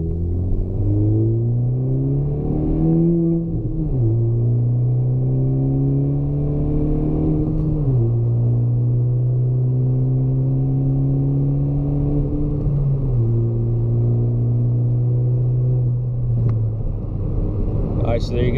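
A 10th gen Honda Civic on its factory ECU map pulls hard on an interstate on-ramp, engine note climbing through several gears with clear drops at each shift, loud and steady inside the cabin.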